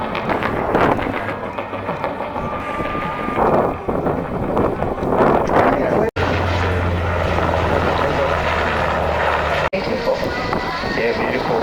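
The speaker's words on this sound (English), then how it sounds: "Beautiful training aircraft from a different era to the ones that are taxiing down the runway right now" A vintage training aircraft taxis along an airshow runway, its steady propeller drone loud and continuous with wind buffeting the microphone throughout.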